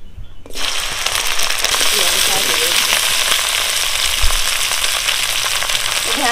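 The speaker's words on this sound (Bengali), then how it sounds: "ঢেঁড়স ভাজার জন্য নুন দিয়ে দেবো" Okra frying in mustard oil in a kadai, a loud steady sizzle that bursts in after a short quiet start and runs continuously with crackling, under light background noise.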